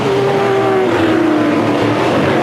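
V8 Supercars racing at the Bathurst 1000 near turn 2, loud engines wailing close by as the cars rush past, pitch falling with each pass.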